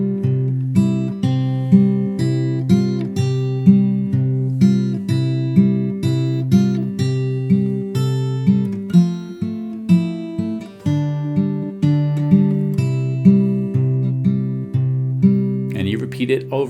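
A fingerpicked acoustic guitar plays a melody figure, with steady repeated plucked notes over alternating bass for the full stretch, then a brief faint noise at the very end.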